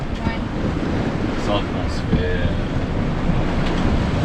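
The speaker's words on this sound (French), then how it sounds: "des belles vagues." Big ocean waves, one to two metres and very long, surging around a sailboat on the St. Lawrence, a steady loud wash of water and wind noise on the microphone with people talking over it.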